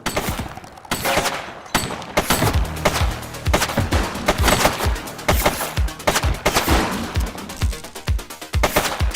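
Rapid gunfire from a shooting suspect in a police game, loud dense volleys of sharp cracks and bursts fired in quick succession with brief gaps, close and without speech.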